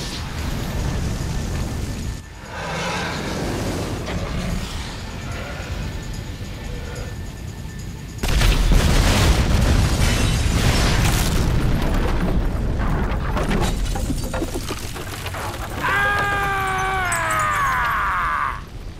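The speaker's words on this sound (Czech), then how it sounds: "Cool frajeři se nedívají do explozí, samozřejmě." A burning farm in GTA 5 sets off a string of deep booming explosions, with loud rumbling blasts, a heavy surge midway, and a sustained roar of fire and debris, plus a rising whine near the end.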